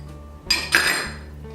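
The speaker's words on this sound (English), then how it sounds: "Now I'm going to just dump in my onion, cilantro," Chopped onion and cilantro are dumped into a bowl of guacamole, heard as a couple of close clinks and scrapes of a utensil against the bowl followed by a brief rustle, with no one talking.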